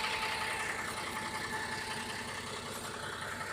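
An engine idling steadily nearby with a continuous rough rumble and a fine knocking texture, loud and unbroken throughout, with no voices.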